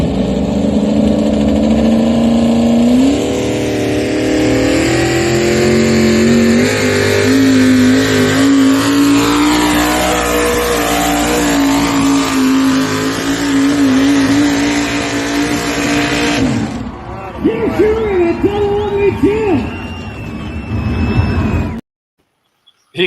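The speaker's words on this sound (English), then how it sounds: "That truck likes that sled." A pulling truck revs hard while dragging a sled at a motorsports event, a loud, sustained engine roar climbing in pitch for most of the run, then sputtering and dropping off before cutting to silence.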